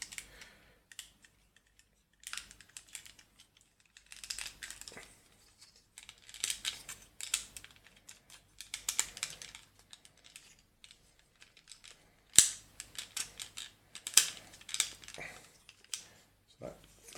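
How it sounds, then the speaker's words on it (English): Plastic parts of a transforming robot toy being moved and snapped into place, giving small clicks, ticks and rustles at close range, with one sharp snap near the middle and no talk. "Click that into place."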